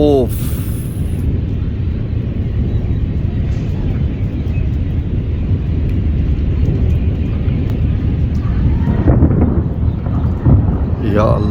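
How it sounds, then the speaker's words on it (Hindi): Deep, prolonged thunder roaring during heavy rain in Jhelum city, a loud sustained low rumble filling the whole span, with voices talking over it near the start and end. "जो गरजने का अंदाज है ना बहुत भयानक है"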